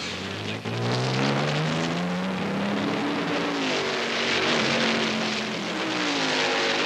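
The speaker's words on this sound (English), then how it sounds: "The Frisbee leaves in a cloud of burnt rubber as Villeneuve streaks down pit lane to rejoin the fray." A Can-Am race car at Mosport in 1983 accelerates hard out of the pit lane, its loud engine note climbing steadily in pitch as it pulls away.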